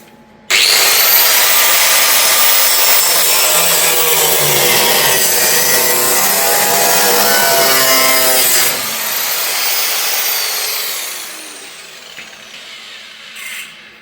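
A power cutting tool slices through a metal tab on an HQ GTS coupe sill panel, a loud continuous harsh grinding whine lasting about eight seconds, then easing lower and winding down as it finishes.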